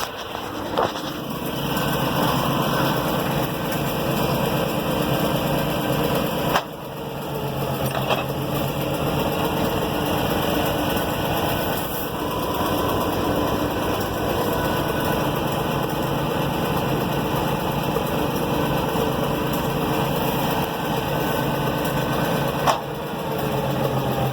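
A Farmall 706 tractor engine runs steadily with a loud, continuous mechanical drone and whine, with the PTO being engaged and a couple of brief clunks partway through.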